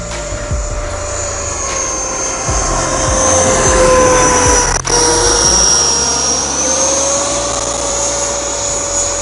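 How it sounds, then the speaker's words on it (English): An EE Lightning model jet cruising just over half throttle, a loud continuous turbine whine with steady high tones that shift slightly in pitch as it passes, alone without speech. "it's cruising just over half throttle"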